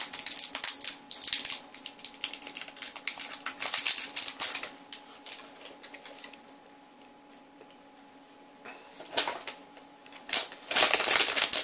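Candy package being opened, with crisp crinkling and tearing of plastic wrapper in close bursts, a quiet pause, then more rustling toward the end.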